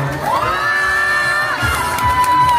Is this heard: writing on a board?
no